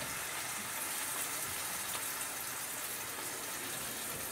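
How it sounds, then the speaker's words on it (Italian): Water goes into a pan of mushroom scaloppine cooking on the stove, a steady rushing, sizzling wash that holds at an even level for a few seconds with no voices. "aggiungete un po' di acqua"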